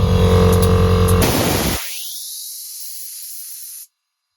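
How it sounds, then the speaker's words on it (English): An air suspension compressor airs up on a Nissan 350z, a loud mechanical rattle that gives way to a long, steady hiss of air lasting a couple of seconds before stopping abruptly. "She's airing up now. That's the compressor going off."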